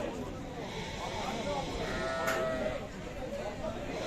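Sheep bleat at a livestock market in Sokuluk, a few drawn-out cries rising over a bustling crowd, with people talking nearby.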